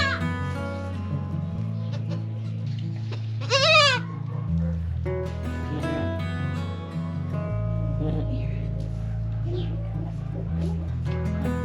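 Goat in early labor on a homestead gives a short rising, bleating cry, close by, over a steady low background hum, with quiet human voices in the scene.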